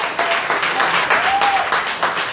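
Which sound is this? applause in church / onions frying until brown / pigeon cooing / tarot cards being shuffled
applause in church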